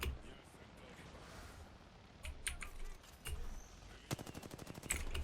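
Rapid automatic gunfire from the Apex Legends video game comes in short bursts toward the end, fairly faint and mixed with light clicking.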